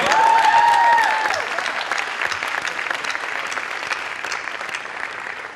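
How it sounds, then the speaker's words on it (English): Audience applause at the 8th Annual Rising Stars Awards ceremony, a steady wash of many hands clapping that holds loud throughout, with a brief tonal sound near the start. "yes, please applaud"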